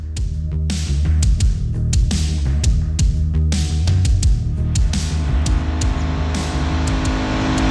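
A loud, raucous mid-capacity motorcycle engine revs hard and close, with sharp repeated throttle blips over a rough, throbbing idle.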